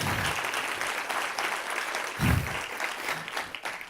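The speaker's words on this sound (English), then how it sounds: "let's give an applaud to Andrea and Sia for this fantastic event and planning." Audience applause at a TV drama industry event, a sustained patter of clapping from a sizeable crowd, with a brief louder swell partway through.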